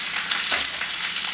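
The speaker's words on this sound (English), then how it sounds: "you might hear a little sizzling going on. I'm over here browning the sausages in the pan" Sweet Italian sausages sizzle steadily in a hot pan, a dense, close crackling hiss with no talking.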